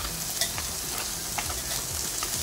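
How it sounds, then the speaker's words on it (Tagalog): Shrimp sautéing with ginger in a hot pan, a steady close sizzle with soft scraping stirs throughout, no voices. "Yan natin gisa siya para mawala ang lansa."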